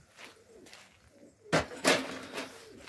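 A stray pigeon, white with a red tail, coos near a rooftop coop in a few soft, throaty calls.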